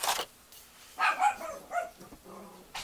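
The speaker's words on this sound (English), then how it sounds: "Oh, those vicious dogs. I'm sure you can hear that." Dogs barking in short, sharp bursts, a few yaps spaced across a couple of seconds, moderately near and alone without talk.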